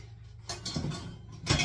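Baking pans and a rack for a pumpkin roll clatter and clink as they are pulled out from storage below, giving a few short, fairly quiet metallic knocks.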